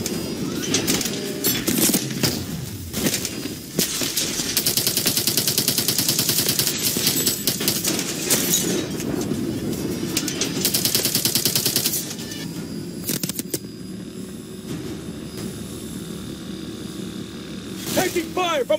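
Gunfire in the Call of Duty Advanced Warfare campaign, Bio Lab mission in a Bulgarian forest: dense bursts of automatic fire and shots crackle loudly and nearly continuously, with radio-style voices shouting over the battle.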